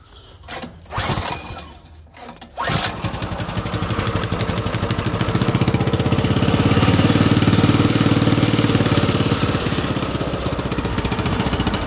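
A Predator 212 small engine mounted on an Allis-Chalmers WD tractor cold-starts after a few seconds of handling noises, then settles into a steady, loud, close idle that runs alone to the end.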